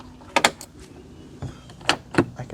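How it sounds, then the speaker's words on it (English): Power door locks on a BMW E90 actuate with quick mechanical clunks, a couple of short clustered thumps near the start and another pair later, close and distinct in a quiet setting. "lock our door, and unlock our door."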